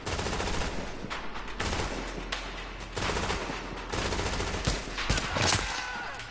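Sustained gunfire in The Division video game, dense rapid shots and overlapping bursts firing almost continuously, loud and close throughout with a steady low rumble beneath.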